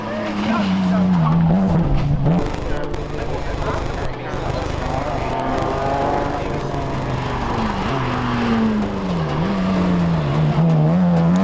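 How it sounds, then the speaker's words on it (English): A rally car engine roars and revs close by during the 2020 Sol Rally Barbados, rising and falling as it drives hard, with tires squealing over constant loud mechanical noise. "Modified 3 were David St Hill and Ian Grimes with a mature drive over the 2 days"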